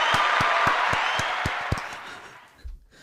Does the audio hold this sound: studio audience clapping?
yes